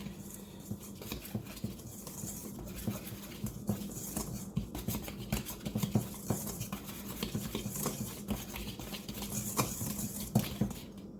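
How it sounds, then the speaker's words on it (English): Granulated sugar whisked in a bowl for a roll dough, a steady run of quick scraping and tapping strokes at close range, moderately loud and continuous, with no talking. "And now I'm going to add 3 tablespoons of granulated sugar. We're going to whisk this together."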